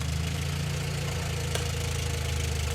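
A Jeep engine idles roughly with a suspected blown head gasket, a steady, close, low rumble carrying a faint rhythmic pulse throughout, with no talking.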